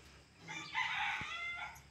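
A rooster crows at a farm where cockerels are raised and castrated, a single fairly faint call rising and holding over the middle of the clip, with no talk.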